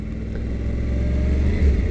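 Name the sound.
motorcycle engine revving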